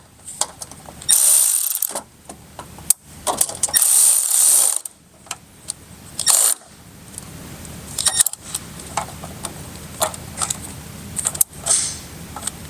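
A ratchet tightens a fender liner bracket screw on a 2020-2025 Chevy Silverado, giving several close, quick runs of clicking pawl with short pauses between them and no talk.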